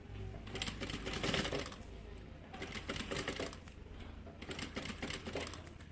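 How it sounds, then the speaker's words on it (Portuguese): Sewing machine stitching along the line of a medium-sized double-opening bag, running in repeated close bursts of rapid clatter separated by short pauses, with a voice talking throughout. "é só ir seguindo a linha e costurando"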